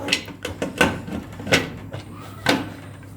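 Several sharp metallic clacks and knocks of a pressure cooker lid being fitted and locked, spaced irregularly over a low steady hum.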